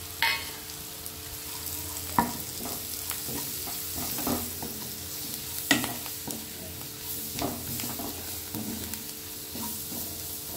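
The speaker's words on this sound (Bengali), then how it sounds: "ময়দাটা দিয়ে ভালো করে ভেজে নিচ্ছি।" Flour frying in a pan to start a white sauce for pasta, a soft continuous sizzle with repeated scraping strokes of a spoon stirring the thick mixture, close and without talk.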